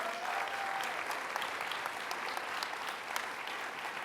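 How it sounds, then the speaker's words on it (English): A college audience applauds its faculty at a state announcement event, a steady wash of clapping heard from a distance and fairly quiet, holding even from start to finish. "Let's give them a strong round of applause."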